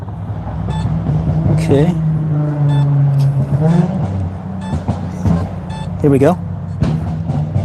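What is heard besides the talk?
car driving by behind the speaker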